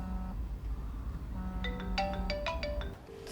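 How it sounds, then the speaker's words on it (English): A mobile phone rings with a bright, repeating electronic melody, a run of quick tonal notes over low room hum, fairly close and without voices. "would you answer your phone"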